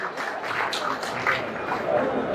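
An audience applauds for Chandrababu at a mini Mahanadu party meeting in Vinukonda, Palnadu district. The steady, dense clapping is mixed with crowd noise and lasts throughout.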